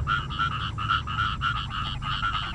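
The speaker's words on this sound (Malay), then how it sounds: "Aduh, bisingnya katak nih." Frogs croaking at a night fishing spot, a loud, dense chorus of rapid pulsed croaks repeating in a steady rhythm, close by, with no voices.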